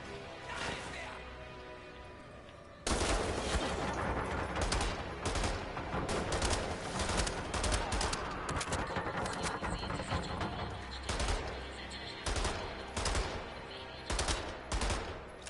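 Pistol fire in Wolfenstein: The New Order, rapid repeated sharp shots cracking loudly through a chaotic firefight with impacts and crashes, kicking in abruptly after a quieter opening and continuing in irregular bursts.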